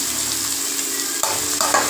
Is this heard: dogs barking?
no